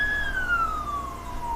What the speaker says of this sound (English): Super smooth landing as we get some more lights and sirens.